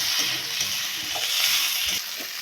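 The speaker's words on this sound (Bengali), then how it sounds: "পরিমাণ মতো লবণ দিয়ে দেবো, দিয়ে ভালো করে আবারও কষিয়ে নেব" Fish curry masala with salt is stir-fried in a pan, a loud continuous hiss with a few soft scraping strokes of a spatula through the thick mixture.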